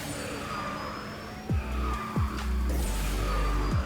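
A kart drifting in the Kartrider: Drift video game, with a continuous engine whine and repeated tire skid squeals that drop in pitch, three or four of them in quick succession, loud and close.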